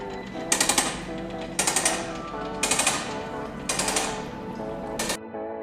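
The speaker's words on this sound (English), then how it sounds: "fire up some of the air tools to make sure that we have everything ready to go" Pneumatic air tools run in a garage during radiator work on a 1996-2006 Jeep TJ Wrangler 4.0L: five loud rattling impact-gun bursts, each about half a second, repeated at a steady rhythm with brief pauses.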